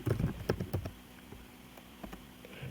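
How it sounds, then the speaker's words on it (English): Clicks of a computer keyboard being typed on, a quick cluster of keystrokes at first, then a few scattered taps in a quiet room. "So you'll see if I were to type resources again."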